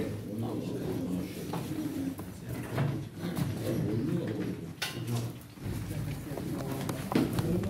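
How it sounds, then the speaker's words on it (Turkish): Çorum Çıplağı pigeons cooing in a loft, soft low coos scattered through the clip under steady background noise, with someone talking nearby. "Bak arkadaşlar bunlar da Kürşat abinin kuşları"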